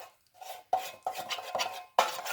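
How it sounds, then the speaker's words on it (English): A spoon or whisk repeatedly scrapes and clinks through flour cake batter in a bowl, four or five rhythmic strokes close up and fairly quiet, with no talking. "I'm gonna really give it a good mix"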